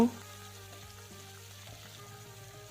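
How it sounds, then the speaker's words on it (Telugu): Mustard seeds, cumin, halved dried red chillies and curry leaves fry in hot oil for a tempering on low flame, a soft steady sizzle with faint crackles after a brief initial burst. "మంటను లో ఫ్లేమ్లో పెట్టుకుని ఇలా కదుపుకుంటూ తాలింపును వేగించుకోవాలి"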